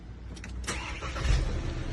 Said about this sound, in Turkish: Şu an kapılarımız açıldı ve arabayı da işletmemiz mümkün.